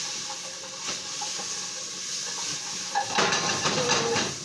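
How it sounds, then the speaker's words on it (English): Browning chicken sizzling in a hot pan while a utensil stirs it, a steady hiss with light metallic scrapes and clinks, then a louder burst of sizzle and clatter as the pieces are turned. "I'll go ahead and give it a stir."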